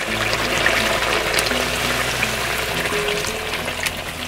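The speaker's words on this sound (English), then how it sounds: "Lagyan natin ng vinegar." Vinegar is poured into a pan of pork belly adobo outdoors, giving a steady splashing, trickling flow over low background rumble for several seconds.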